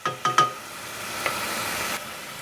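Onions cooking in fat for a Parmesan risotto, giving a steady soft sizzle close by after a few quick clinks of a utensil against the pan at the start, with no talking.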